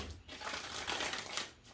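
Tarot cards being shuffled by hand, a soft, close riffling and crinkling burst lasting under two seconds, fairly quiet and with no talk.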